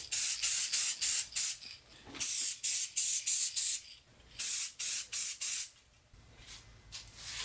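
Short bursts from an aerosol spray paint can hiss in quick rhythmic pulses, several in a row with brief pauses between, close and fairly loud with no talking over them.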